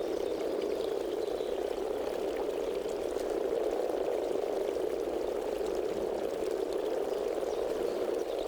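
Frogs croak in a dense, continuous chorus that holds steadily loud for the whole stretch, with no pauses or voices.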